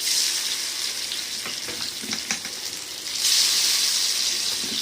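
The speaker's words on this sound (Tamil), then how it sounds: "அதுக்கு வந்து நம்ம மீனை வந்து பொறிக்கிறோம்" Fish fries in hot oil for a curry, a loud continuous close sizzle with crackling bursts, rising to a stronger hiss near the end, with no talk.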